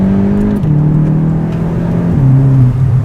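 A Volkswagen Golf 7 TCR, a light 1.4-tonne car, pulls hard in second gear, its engine droning loud and close with a steady rising pitch and a brief dip as the revs shift, no talk over it.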